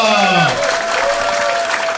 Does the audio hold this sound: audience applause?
yes